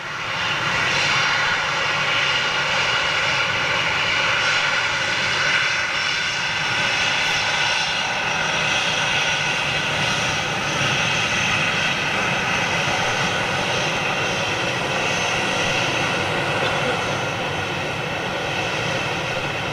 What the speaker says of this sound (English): we didn't think we were going to get a 747 going out on the bank show, but we are now